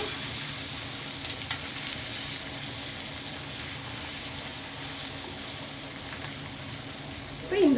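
Fish sizzles steadily in hot oil in a village kitchen, a soft continuous crackle and hiss at moderate distance with no voices, ending in a brief clatter.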